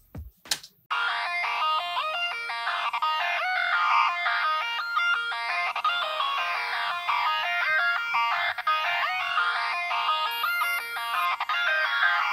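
A music beat plays on its own, a bright repeating synth pattern with a steady rhythm that starts suddenly after a brief click and continues throughout.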